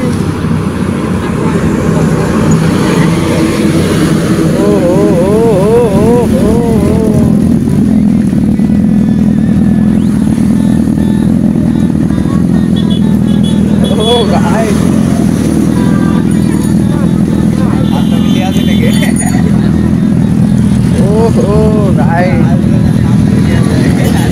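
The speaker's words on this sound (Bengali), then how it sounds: "তো গাইস আসছে সুপার বাইক।" A superbike roars past on a road, its engine loud and close as it revs and passes by, with a person talking over the noise.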